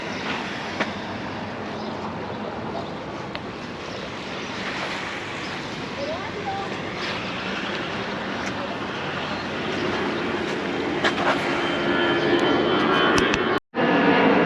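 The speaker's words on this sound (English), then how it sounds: "There's a spot where you can watch the aeroplanes take off as another one goes" An aeroplane takes off near a headland in Palma de Mallorca, a distant, steady engine rumble that builds slowly under open-air background noise near the sea.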